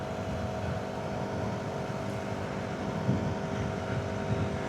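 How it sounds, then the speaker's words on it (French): A KTM Duke 200 motorcycle engine drones steadily while riding at night in Singapore, a continuous muffled hum blended with wind rush and no talking. "Même si cette KTM ne fait pas non plus un bruit extraordinaire."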